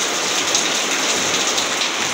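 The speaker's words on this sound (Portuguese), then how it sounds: "E aqui eu tô aqui escutando o barulho da chuva, que é muito gostoso, né?" Steady heavy rain pours down in a continuous dense hiss of drops on surfaces, loud and close, with no voices and no pauses.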